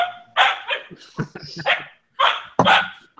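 A dog barks repeatedly, close and loud, in short bursts with brief pauses between them.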